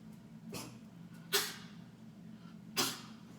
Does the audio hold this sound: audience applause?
no